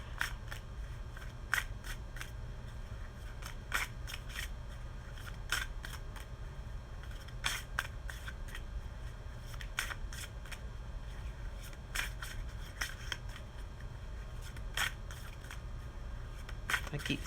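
Tarot cards are shuffled by hand in a soft, steady riffling rhythm with repeated crisp snaps, close and fairly quiet, with no talking.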